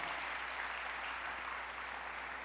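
An audience applauds steadily at the NCIC Divali Nagar site during a 2015 Divali address, a soft, even wash of clapping that sounds somewhat distant.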